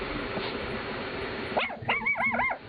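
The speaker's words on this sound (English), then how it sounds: "This is Mickey barking at the mirror." Mickey, a pet dog, barks at his own reflection in a mirror: low muffled noise first, then a few sharp yips and whiny, wavering barks bunched close together near the end.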